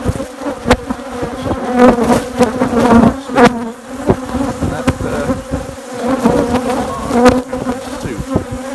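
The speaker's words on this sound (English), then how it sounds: "going around with a cloud of bees around him." Dense, steady buzzing of many honeybees swarming close around a beekeeper, a continuous droning hum with individual insects zipping past.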